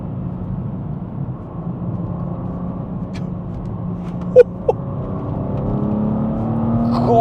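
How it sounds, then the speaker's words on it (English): A BMW M2 G87 with a manual gearbox drones steadily at low pitch inside the cabin, rising slightly toward the end as the engine is blipped for a rev-matched downshift into a corner, with a couple of brief clicks along the way. "I'm gonna have a rev match into this corner."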